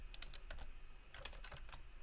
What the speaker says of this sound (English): I'll just type in here